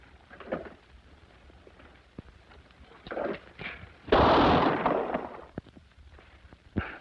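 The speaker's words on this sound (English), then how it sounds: "We'll put a bullet in the letter O. Give you something to shoot at." A gunshot fired at a target during a shooting contest in an old black-and-white TV western: one loud, broad blast with a short ringing tail in the middle, with quieter knocks and scuffles before and after.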